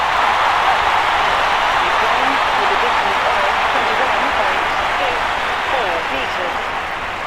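A stadium crowd applauds steadily at an athletics event in the London 2012 Olympic video game: a dense, continuous wash of clapping that holds even for about seven seconds and fades slightly at the end.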